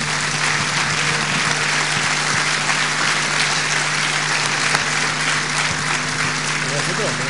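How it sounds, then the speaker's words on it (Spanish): An audience applauds for Fabiana at an event in Neuquén, a loud and dense wash of clapping that holds steady throughout, with some voices mixed in. "Vamos a dar un aplauso a Fabiana"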